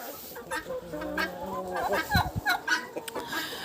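A crested hen clucks in short bursts close by in a farmyard, with a voice talking over it.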